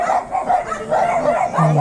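Several dogs bark and yip in quick, overlapping bursts nearby, with a brief whimpering tone near the end.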